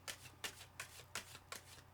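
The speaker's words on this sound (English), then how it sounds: "So just having another little shuffle." Ancient Italian Tarot cards are shuffled by hand in quick, regular riffling bursts about three per second. The sound is close, soft and crisp, with no voices.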